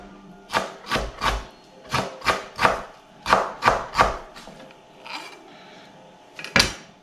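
A knife finely chopping preserved mustard greens (mui choy) on a board, roughly a dozen crisp, evenly spaced strikes in small bursts, close and alone.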